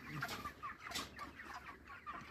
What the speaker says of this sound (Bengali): দেখতে পাচ্ছেন, এই মুরগিগুলো কিন্তু সম্পূর্ণ তার ফার্মের মুরগি